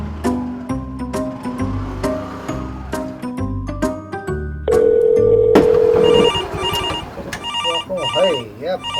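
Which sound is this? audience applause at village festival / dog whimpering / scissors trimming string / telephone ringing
telephone ringing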